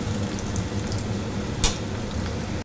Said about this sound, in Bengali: আদা আর লঙ্কা বাটা করে রেখেছি, এটা দিয়ে একটু তেলের উপর দিয়ে ভাজবো মশলাটা দিয়ে।